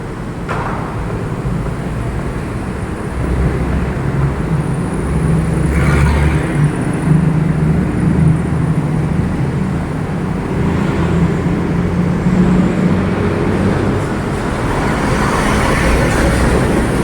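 Steady traffic on an expressway in the Philippines, with cars and buses passing in a continuous loud roar and rising and falling swells as individual vehicles go by.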